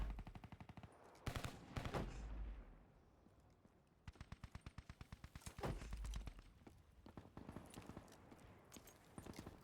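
Assault rifle fire from Call of Duty in rapid automatic bursts, close and loud, with short pauses between strings of shots and a couple of heavier booms mixed in.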